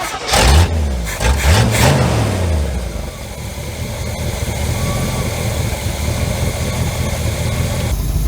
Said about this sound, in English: So let me idle it up a little bit.